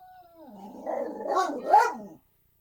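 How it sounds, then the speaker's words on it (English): A dog upset by a hornet flying nearby lets out a rising, strained howl-bark that swells over about two seconds and then cuts off, close and fairly loud, with no talking. "The dog's upset because there's a hornet flying around."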